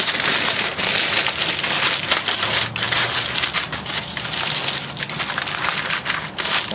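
Pork spare ribs doused with apple juice being wrapped tightly in aluminum foil beside a barbecue smoker pit, a steady close crinkling and crushing that runs without a break.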